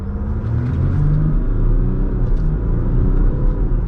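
Loud, close diesel engine rumble of a Jeep Grand Cherokee EcoDiesel held at high revs during a brake torque, a deep steady roar with slight fluctuations throughout, no voices.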